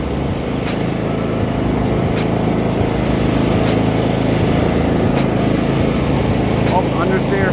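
Toro Wheel Horse riding lawn mower engine droning steadily and loud while being driven and swerved left and right, a continuous rough hum throughout with a voice talking over it.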